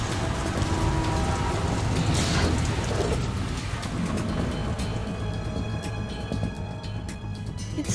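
Steady heavy rainfall in the Metal Gear Solid 2 game, a continuous dense wash of rain with occasional low rumbles, loud and unbroken throughout.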